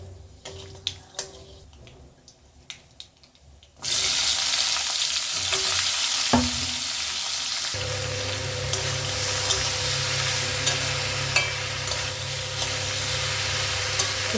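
Sliced ivy gourd (kundri) drops into hot oil tempered with black mustard seeds and a chili; after a quiet start with faint clicks, a sudden loud, steady sizzle fills the pan as it is stirred.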